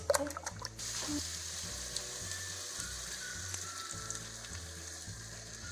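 Eggs with chopped nopales cactus scrambled and frying in a pan, a steady close sizzle with light scraping of the spatula throughout, no talking.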